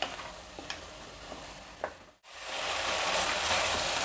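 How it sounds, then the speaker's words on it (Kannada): Tomatoes fry in a pan with scraping stir strokes at first, then a brief gap gives way to a steady, loud broadband sizzle with no talking. "ಈಗ ಇದನ್ನು ಚೆನ್ನಾಗಿ ಹುರಿಯೋಣ"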